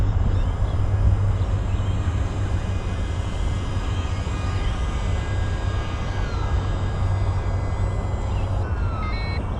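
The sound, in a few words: electric motor of Canberra bomber RC plane at half throttle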